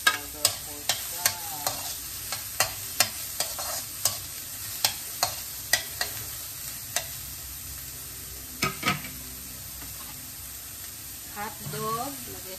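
Red and green bell peppers stir-fried in a hot pan, a steady sizzle punctuated by a regular series of sharp utensil clacks against the pan, close and fairly loud.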